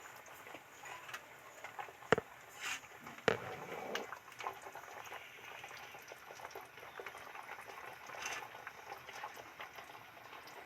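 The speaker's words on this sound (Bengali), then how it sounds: "টকবক টকবক করে ফুটছে" A mustard-paste fish curry simmering in a pan, heard as soft continuous bubbling and popping with a couple of sharp clicks, faint and close, with no talking.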